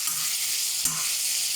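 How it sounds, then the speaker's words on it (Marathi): Garlic sautéing in hot oil, a loud, close, continuous sizzle with a single stirring scrape partway through. "लसूण छान परतून घेऊयात."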